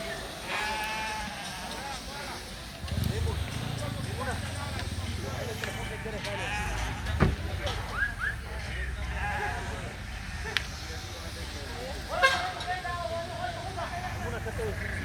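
Sheep bleat intermittently amid the steady murmur of a crowded goat and sheep farmyard in Nairobi, Kenya, with people talking nearby and scattered animal calls.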